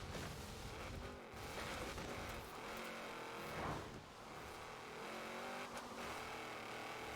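A Shelby 1000 sports car engine in the video game Forza Horizon 4 revs and roars steadily, rising and falling in pitch with a gritty, continuous drone and no voices.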